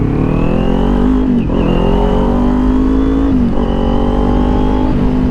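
A Kawasaki Ninja 400 fitted with a LeoVince LV-10 exhaust revs hard on the road, its loud, close engine note climbing through the gears and briefly dropping between shifts, with no talk over it.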